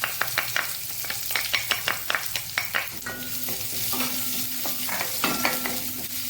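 Onions frying in oil in a pan while cooking methi leaves sukka, stirred with a spoon: a run of sharp scraping clicks at first, then a steady sizzle with occasional stirs, close and without speech.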